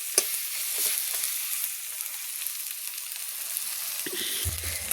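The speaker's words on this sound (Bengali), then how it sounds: "দিয়ে ভালো করে আমি গুঁড়ো মশলাগুলো একসঙ্গে তেলের সঙ্গে, পেঁয়াজ আর তেলের সঙ্গে আমি কষিয়ে নিচ্ছি" Ground spices and onion sizzle softly in oil while being sautéed, a steady low hiss with occasional scraping stirs and a faint clatter near the end.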